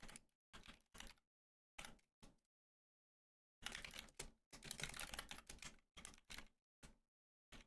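Keys clatter on a computer keyboard in short bursts with silent gaps between them, then a longer stretch of rapid continuous typing, close and fairly quiet.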